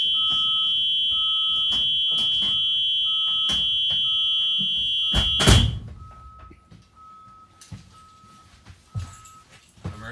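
A school bus emergency exit alarm sounds as a loud, steady electronic tone for about five seconds, stops after a thunk of the exit closing, and then a quieter intermittent beep pulses behind light handling noises inside the bus.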